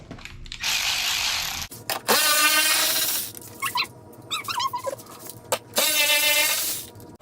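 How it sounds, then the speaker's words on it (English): A ratchet wrench turns 10mm nuts beneath the heat shield of a Porsche 911 (991 Carrera), giving several bursts of close, rapid clicking separated by metallic clinks and brief pauses. "This thing pops out and we have to unscrew the 10mm nuts underneath of it."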